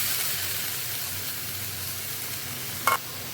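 Rice frying in spiced masala gives a steady, close hiss of sizzling, with a single short clink of a utensil near the end.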